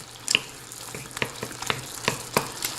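Chicken pieces browning in a hot pan for tacos, sizzling steadily while a utensil stirs and scrapes through them in repeated close, sharp strokes.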